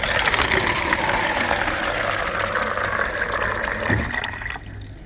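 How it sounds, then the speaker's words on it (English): A water dispenser in a waiting room runs with a steady rushing, splashing flow. The flow stays close and fairly loud, then tails off and quiets near the end. "This is a noise which I recorded myself, a water dispenser."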